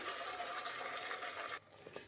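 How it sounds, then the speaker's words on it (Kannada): Cooking water from boiled drumstick greens and lentils pours into a pan of fried onion and ground masala for a village-style bassaru, a steady close gush lasting under two seconds before cutting off to quiet. "ನಾವೇನು ಕಾಳು ಬೇಯಿಸಿದ್ವಲ್ಲ ಸೊಪ್ಪು ನೀರು ಅದನ್ನೇ ಹಾಕಿದ್ದೀನಿ"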